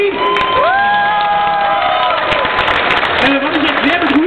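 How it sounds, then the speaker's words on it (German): A live concert crowd applauds and cheers loudly in a dense wash of clapping, whoops and shouts, with some sustained tones and voices mixed in throughout. "einen kurzen Applaus schon mal für ihn"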